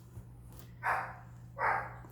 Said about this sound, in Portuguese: Minha cachorrinha latindo, gente.